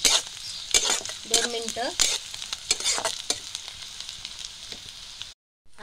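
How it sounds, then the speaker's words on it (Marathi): Onions and cumin are stirred and sautéed in a pan, with a steady sizzle under repeated scraping stir strokes that run for several seconds and cut off abruptly at the end. A short spoken phrase is heard. "कांद्यात मी आता 1/2 चमचा जिरे टाकते, तेही आपण हलवून घेऊ"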